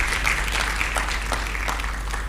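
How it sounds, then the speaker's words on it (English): Conference audience at an agricultural finance learning event gives a warm round of applause, a continuous wash of many hands clapping with a low steady hum beneath, fairly even in loudness throughout. "Let's give them a warm round of applause"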